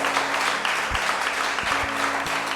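A church congregation applauding during a service, a dense, steady wash of clapping from many hands with a low hum underneath.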